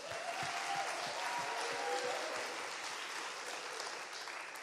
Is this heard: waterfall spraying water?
no